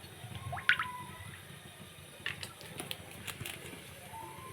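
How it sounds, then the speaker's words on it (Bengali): White cooking oil is poured into a hot kadai, giving faint, brief liquid splashes and drips in an otherwise quiet kitchen. "কড়া গরম হয়ে গেছে একটু সাদা তেল দিয়ে দেবো"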